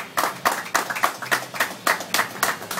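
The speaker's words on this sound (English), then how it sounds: "I'd like you to give a big round of applause for Alvin and Castillo." A small crowd applauding at a boxing press conference, with clear, evenly spaced individual claps standing out close by rather than a dense roar.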